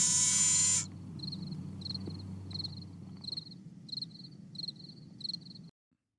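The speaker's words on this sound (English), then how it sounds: "Fake cricket sound effects." A fake cricket sound effect chirps in evenly spaced, high, buzzy pulses over a low background hum after a brief loud burst, then cuts off abruptly.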